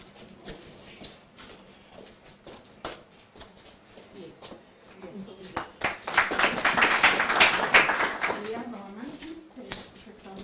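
An audience at an international research conference claps; rapid hand claps swell into a few seconds of applause in the middle and then fade, with people speaking over and around it.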